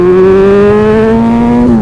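The engine of a motorcycle called The Punisher pulls loud and close through a single smooth acceleration on a twisty road, its rising whine climbing steadily in pitch.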